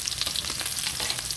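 Ingredients sautéing in a pan for Bicol Express or ginisang ampalaya with eggs, a dense, steady sizzle and crackle of frying oil heard up close with no talk.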